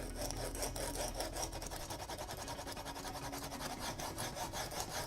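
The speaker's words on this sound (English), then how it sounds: "I just got my coarsest of my sanding sticks." Coarse sanding stick rubbing back and forth across a bevel on a cosplay helmet piece, quiet rhythmic rasping strokes repeated evenly throughout, close and alone.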